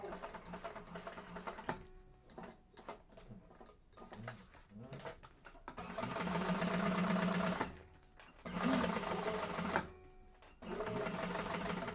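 A sewing machine stitching a zipper bag, running in several bursts of rapid mechanical whirring and needle clatter separated by short pauses, close to the microphone, with brief quiet speech between runs.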